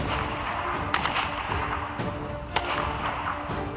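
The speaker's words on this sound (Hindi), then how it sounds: "शहर के बीचों बीच सैनिक चला रहे गोलियां" Sharp gunshots from soldiers firing in the middle of a city crack out irregularly, a few louder bursts standing above a dense rumbling background of distant firing and noise.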